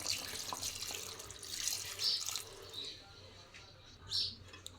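Water is poured into a pan of chicken tomato curry, giving a close, splashing, tap-like stream that comes in a few short surges over several seconds.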